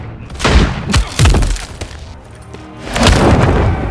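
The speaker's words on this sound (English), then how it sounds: "Stun grenade out." A stun grenade blast in Call of Duty MW3 lands as a series of heavy, close booms and thuds, followed by a lower rumbling stretch and another loud surge of noise toward the end.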